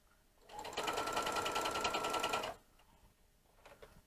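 A sewing machine stitches a half-inch seam on a girl's sleeveless dress, one steady two-second run of rapid close stitching, then quiet with faint handling.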